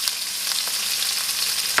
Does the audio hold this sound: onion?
yes